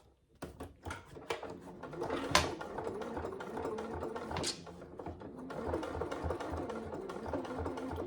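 Sewing machine stitching a fabric saddle bag, back-stitching at the top where the strap tab attaches; a steady mechanical whir runs continuously and close, with short bursts and pauses early on before settling into sustained sewing.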